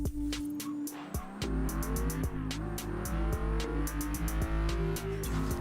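Big V12 of the Regalia luxury car in Forza Horizon 3 revving loudly and continuously, pitch climbing and dropping through gear shifts, close and dominant with no talking.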